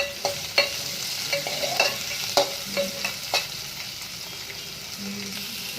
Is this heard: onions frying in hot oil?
yes